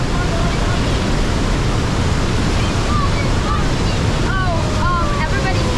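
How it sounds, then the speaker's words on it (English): Niagara Falls roaring as millions of gallons of water rush past, a steady loud broadband wash filling the whole clip, with faint voices and bird-like chirps on top. "while millions of gallons of water is rushing by you"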